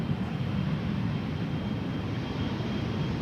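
A loud, steady roar of a jet airliner taking off from Amsterdam Schiphol's Polderbaan runway 36L, broad and rumbling, continuing without pause.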